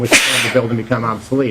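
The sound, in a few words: sneeze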